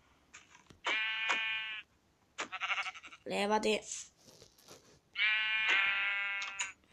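Sheep in Minecraft Pocket Edition bleat several times in short, wavering cries, with a pair of bleats early on and a longer one near the end, while someone speaks between them.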